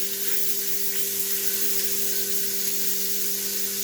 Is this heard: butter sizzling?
yes